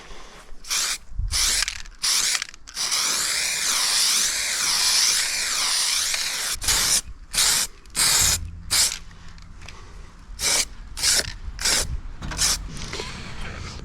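A spray can applies a second coat of paint during the restoration of a Suzuki Van Van 125 motorcycle. Short hissing bursts alternate with longer continuous sprays, and a can clicks and rattles between passes.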